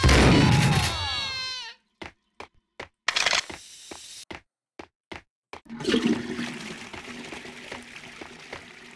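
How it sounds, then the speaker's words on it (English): A toilet flushes in the Max Payne video game, a loud close rush and gurgle of water that fades out, followed by sharp clicks and cracks, then a softer rumbling water tail with no talking. "Don't forget to flush."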